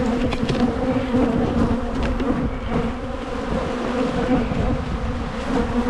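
Honeybees swarm loudly around an opened nuc hive, a dense, close, agitated buzzing that stays constant throughout with individual bees whizzing past.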